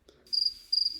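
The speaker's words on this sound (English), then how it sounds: "crickets." Crickets chirp as a podcast sound-effect gag, in two short bright bursts of rapid high trilling with a brief quiet gap between them.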